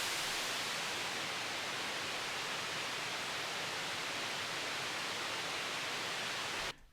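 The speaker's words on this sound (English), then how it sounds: "It's just operator which is playing some basic white noise." Basic white noise played by an Ableton Operator synth for a minimal techno effect, a steady loud hiss held evenly for nearly seven seconds before cutting off abruptly.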